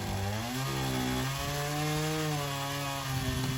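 Chainsaw with a freshly sharpened chain cutting a notch into a tree on rocky ground, its engine droning steadily with pitch shifts as it bites into the wood.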